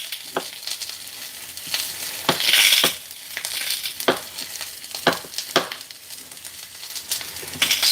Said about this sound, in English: just dicing up some tomatoes